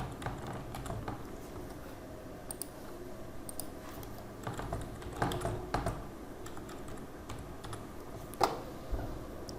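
Soft keyboard typing goes on while a user and password are entered during an Ubuntu install, a steady patter of light keystrokes over a dull background hum.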